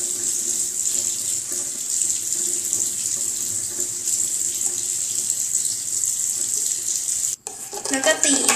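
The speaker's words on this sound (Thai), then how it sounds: "ใส่น้ำทั้งหมด 5 ช้อนค่ะ" Water runs steadily from a tap for several seconds, a bright continuous hiss that stops abruptly near the end, as spoonfuls of water are added to soap and shampoo to make a foam.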